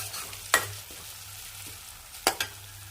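Chopped tomato sautéing in a pan for idli upma gives a soft, steady low sizzle, with a few sharp scrape-and-clack stirring hits from a spoon. The pan sounds close, and there is no talking.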